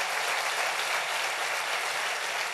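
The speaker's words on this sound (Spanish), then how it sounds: "Dale un aplauso bien fuerte al Rey bendito." Steady, dense applause from a church congregation fills the whole stretch evenly, loud and close, with no pauses and no voices standing out above the clapping.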